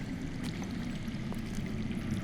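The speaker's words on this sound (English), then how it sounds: "I hear water. From underground." Steady low rush of water flowing underground in a Game of Thrones Telltale game scene, a continuous muffled broadband wash with faint trickling ticks on top, even in level throughout.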